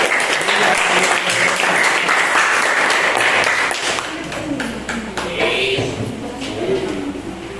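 Classroom applause for a student about to present, a dense burst of clapping from the class that thins out after a few seconds, with voices chattering underneath.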